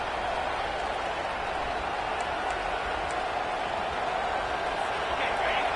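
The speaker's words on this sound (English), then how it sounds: "The roar of the crowd trying to fuel this defense to keep them pinned in their own end." Steady roar of a large stadium crowd at an American football game, a dense continuous wash of cheering noise holding level throughout with no breaks.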